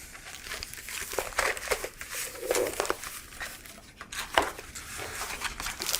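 Plastic packaging of a DeckTutor Four 2.0 deck box being torn open, with close, steady crinkling and crumpling, a few sharper tearing bursts in between, and no talk.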